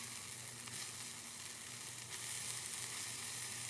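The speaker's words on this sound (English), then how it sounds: "I'm going to give that a good stir." Frittata vegetables sizzle steadily in a hot pan as they are stirred, a close, even hiss with no talking.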